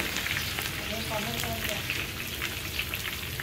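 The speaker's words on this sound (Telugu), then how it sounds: "ఉల్లిపాయలు కూడా దంచేసి ఇందులో వేయించుకుంటున్నారు పచ్చివాసన పోవడానికి" Crushed onions frying in hot oil with boondi and curry leaves for karam boondi, a steady close sizzle running throughout with faint voices in the background.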